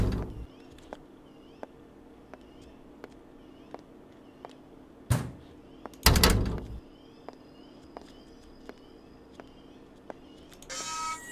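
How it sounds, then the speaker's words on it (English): A door is smashed open in the Texas Chainsaw Massacre video game, with two heavy crashing impacts in the middle over a steady ambient hum and scattered small clicks. "This guy's gonna bust through the door and I'm gonna run away."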